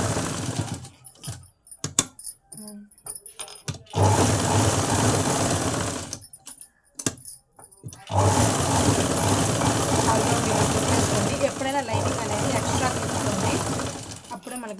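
A sewing machine stitches along the front panel of a red blouse, running in two sustained bursts from about 4 to 6 seconds and 8 to 15 seconds, with brief clicks and handling noises in the gaps before them.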